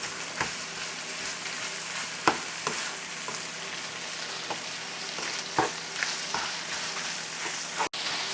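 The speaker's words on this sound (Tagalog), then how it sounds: "once our onions are ready, we can put in our sausage" Italian sausage sizzles steadily in a frying pan with onions, a dense hiss broken by occasional clicks and scrapes from stirring, close and unaccompanied by talk.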